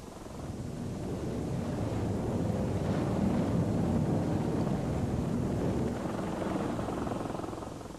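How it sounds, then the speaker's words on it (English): A recovery helicopter hovers over a Mercury spacecraft capsule, its rotor a loud, continuous whirring roar that swells slightly mid-clip, mixed with gusty wind buffeting and no voices. "As the helicopter got ready to hook on to the spacecraft"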